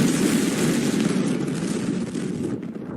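A massive explosion recorded by nearby residents roars as a loud, sustained rumbling blast, broad and heavy, slowly fading toward the end.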